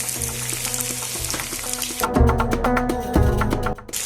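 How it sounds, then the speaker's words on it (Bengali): Chopped ginger and quartered capsicum fry in hot oil in a pan, giving a steady close sizzle with bursts of crackle and stirring clatter partway through. "এটাকে একটু নেড়ে চেড়ে ভালো করে ভেজে নেব।"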